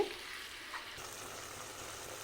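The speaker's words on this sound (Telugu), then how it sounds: "ఈ మటన్ అంతా ఆయిల్లో కాస్త కుక్ అవ్వనివ్వాలి ఒక పది నిమిషాల వరకు ఇలా కలుపుతూ ఫ్రై చేసుకోవాలి" Mutton pieces fry in oil over a high flame, making a quiet, steady sizzle with faint stirring and no voices.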